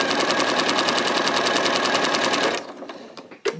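A sewing machine runs steadily, stitching quilting fabric in a fast, even rhythm that stops abruptly partway through, followed by a few faint handling clicks.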